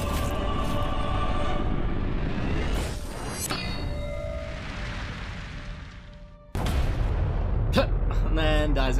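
Explosion in the video game Middle-earth: Shadow of Mordor, a loud booming burst amid dense game noise and rumble, with a second heavy blast hitting near the end.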